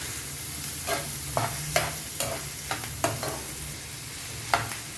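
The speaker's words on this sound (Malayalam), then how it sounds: "ഇഞ്ചി, വെളുത്തുള്ളി, ഉള്ളി നമുക്കൊന്ന് വഴറ്റിയെടുക്കാം." Ginger, garlic and onion sauté in hot coconut oil, a steady close sizzle broken by repeated scraping stirs of a spoon in the pan.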